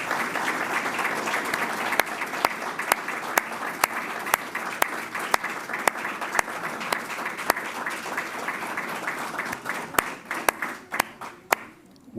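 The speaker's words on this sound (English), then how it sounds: "let's give another round of applause for Carlos Farrell, for Felicia" An audience at a Hispanic Heritage Month commemoration in the Town of Brighton applauds steadily, dense clapping from a mid-sized crowd with a few sharp individual claps standing out, tapering slightly toward the end.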